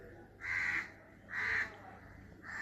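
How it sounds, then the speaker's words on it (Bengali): Crows caw outside a window in three loud, separate bursts about a second apart, standing clearly above a quiet room background. "কাক পাখি সব ডাকছে।"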